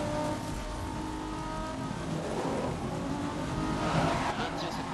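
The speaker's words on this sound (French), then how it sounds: "Faut écouter la bagnole." A race car engine in the racing video game GRID drones loudly and continuously, a dense roar with steady mechanical noise and a slight rise near the end.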